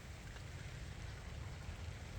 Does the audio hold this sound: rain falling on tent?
yes